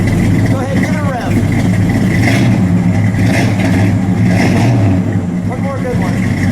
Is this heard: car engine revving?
yes